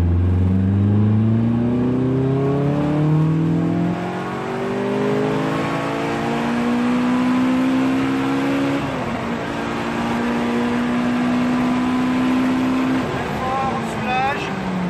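A Caterham sports car at the Croix-en-Ternois circuit, its engine revving loud and close through rising gear pulls with a long sustained drone in the middle, while a voice coaches over the engine.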